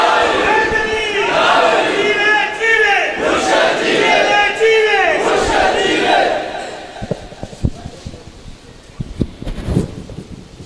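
A large crowd at a Milad gathering chants the Takbir slogan loudly in unison, sustained voices rising and falling, then dropping away to scattered rustling and murmurs.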